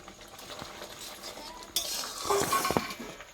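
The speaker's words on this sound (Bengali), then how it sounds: "একটু নাড়াচাড়া করে নেবো।" A utensil scrapes and clinks in a pan as fried puti fish are stirred into mustard gravy, with a few metallic knocks over faint sizzling.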